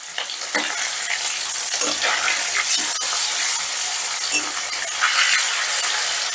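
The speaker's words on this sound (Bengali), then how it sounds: "মাছটা দেখো এক পিঠ ভাজা হয়ে গেছে আমি উল্টে দিচ্ছি" Fish pieces fry in oil in a pan, the first step of a fish and lentil dal. A loud, steady sizzle and crackle runs throughout, close up, with no talking.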